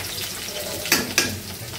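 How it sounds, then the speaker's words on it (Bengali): Onion and green chilli fry in a pan with a steady close sizzle, broken by two sharp spatula scrapes near the middle. "পেঁয়াজ আর কাঁচামরিচ দিছি, একটু ভেজে নিচ্ছি"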